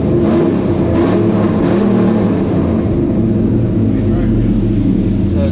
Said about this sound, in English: it's idling a little bit high, which that's another reason why we're not hearing the cam.